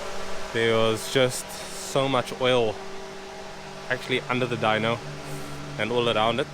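A fan runs in a dyno room in a workshop, a steady low hum heard faintly under someone talking throughout.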